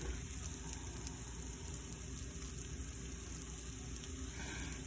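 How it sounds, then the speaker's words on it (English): Mushrooms and onions fry in a pan on a stove, giving a steady, fairly quiet sizzle and crackle that runs throughout without any voices. "I love the smell of frying mushrooms and onions."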